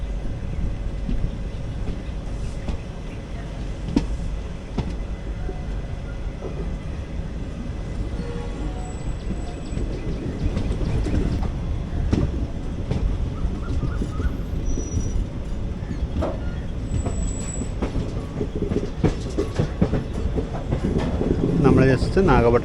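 A Summer Special Express train pulls out of Nagapattinam station with a steady rumble of wheels on the rails and occasional clatter and faint squeals. The sound is continuous and close.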